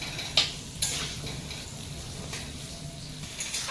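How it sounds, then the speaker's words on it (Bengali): Potatoes fry in a pan with a soft continuous sizzle, broken by a few sharp scrapes and clanks of a spatula stirring, close and without speech. "আলুটা লাল লাল করে ভেজে নিয়েছি"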